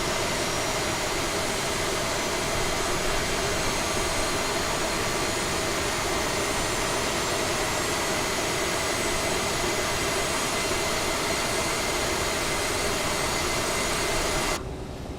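Twin jet engines of a CRJ700 airliner in a flight simulator spooling up, a steady loud roar with a high whine layered over a broad rushing hiss.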